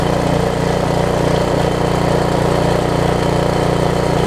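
An old 1980s Briggs & Stratton 5 hp tiller engine runs steadily up close, a loud, even, throbbing putter with no change in speed and no voices.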